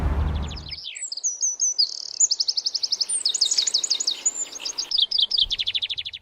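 Birds chirping and singing in quick repeated trills and tweets, fairly close and clear, after a brief low rumble at the start.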